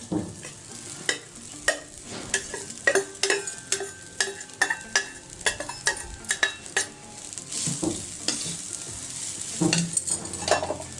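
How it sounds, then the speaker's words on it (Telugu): Cooked rice is tossed and stirred with spice powder in a pan for curry-leaf rice, with repeated sharp scrapes and clinks of a metal spoon against the pan over a faint sizzle and no talking. "ఇప్పుడు రైస్ వేసేసుకుందాం దీంట్లో."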